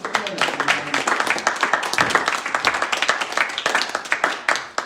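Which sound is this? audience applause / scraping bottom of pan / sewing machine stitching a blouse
audience applause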